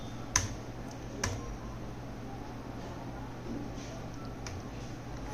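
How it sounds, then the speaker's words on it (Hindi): A keyboard's Enter key is pressed: two faint, sharp clicks close together in a quiet room, with low steady background hiss. "एंटर हिट करेंगे।"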